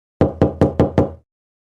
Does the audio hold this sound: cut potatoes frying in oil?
no